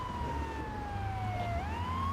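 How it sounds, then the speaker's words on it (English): A wailing police siren in Grand Theft Auto 3 sweeps down and then back up in pitch, steady and fairly close, over a low engine rumble. "If you have the sirens on"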